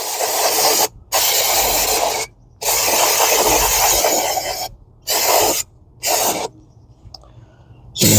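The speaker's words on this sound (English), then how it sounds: "let me quickly hit this again with some cleaner just to make sure everything's good to go" Brake cleaner sprayed onto the rear brakes of a 2011 Ford Focus in several loud, close hissing bursts of varying length, separated by short silences.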